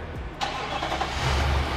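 A 2018 Nissan NV3500 van with a direct-injected engine, freshly serviced after a valve job for carbon-clogged valves, cranks briefly and catches, then settles into a steady low idle, heard close and alone.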